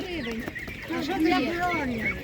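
Chickens and roosters cluck repeatedly at an outdoor animal market, a steady stream of short calls close by over a busy crowd, with people talking throughout.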